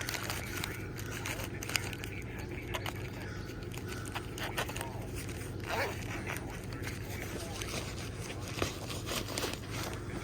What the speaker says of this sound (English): And these zippers are YKK.